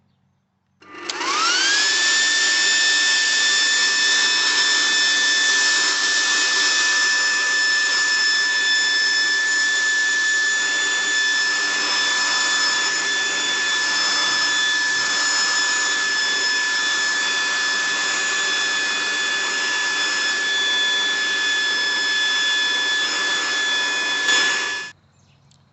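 A leaf blower fitted with a mosquito sprayer spools up and runs continuously for close to half a minute, a loud, steady high-pitched whine and rush of air that cuts off abruptly at the end.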